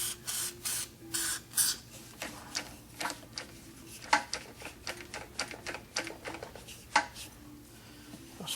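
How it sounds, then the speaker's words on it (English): Aerosol cleaner sprayed in short repeated hissing bursts onto the underside, choke and fuel shutoff valve of an Eska outboard boat motor, close up, with light clatter between bursts. "Now, up under here, I'll spray it."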